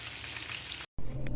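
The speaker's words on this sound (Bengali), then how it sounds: "এবার আমি মাংসটাকে হালকা করে একটু ভেজে নেব" Broiler chicken pieces frying lightly in hot oil make a dense, steady sizzle, cut by a brief silence before the sizzling returns loud and close.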